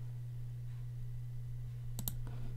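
A couple of quick sharp computer mouse clicks, close and crisp, over a low steady electrical hum in an otherwise quiet room.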